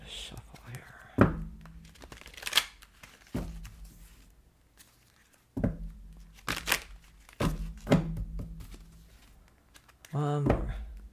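A deck of cards is shuffled by hand in several separate bursts of crisp riffling and soft slapping, with short pauses between them and quiet whispered talk in the gaps.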